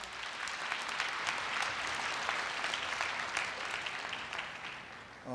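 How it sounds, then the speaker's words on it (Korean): A large crowd at a Korea University entrance ceremony gives a big round of applause to welcome a guest speaker, a steady, somewhat distant wash of clapping that fades slightly before a voice begins at the very end. "박웅현 대표님을 큰 박수로 맞이해 주시기 바랍니다."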